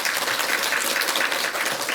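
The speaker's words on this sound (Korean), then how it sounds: "박수 한번 쳐주세요" Church congregation applauding during a Sunday service to welcome a newcomer, a dense, steady patter of many hands clapping close by, continuous and even throughout the short stretch.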